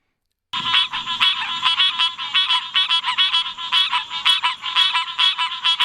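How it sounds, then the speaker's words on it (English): A green tree frog gives rapid, repeated nasal honks like a small horn, loud and close in a steady pulsing rhythm over a faint background chorus. "the green tree frog. And this one kind of sounds like a honking horn"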